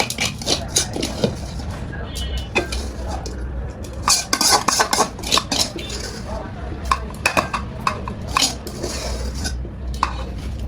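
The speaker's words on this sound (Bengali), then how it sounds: "আমি কড়াই থেকে মাংসগুলো আমার একটা ছোট্ট পাতিলে আলাদা করে রাখতেছি" Cooked biryani meat is scooped from a wok into a small pot, with loud close scraping, clanking and clinking of a metal spoon against the cookware in irregular bursts.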